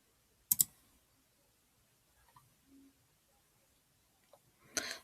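A computer mouse button gives a sharp double click up close, then quiet, then another brief click burst near the end, with faint rustle between.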